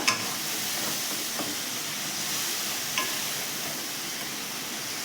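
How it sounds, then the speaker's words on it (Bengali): Spice masala of Kashmiri chilli, turmeric, salt, sugar and kasuri methi stir-fried with a little water in a pan for potol curry, giving a steady close sizzle and hiss with a few soft scraping strokes, no talk. "অল্প জল দিয়ে কষছি মশলাটা"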